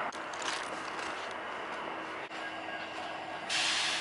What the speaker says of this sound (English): There's a train.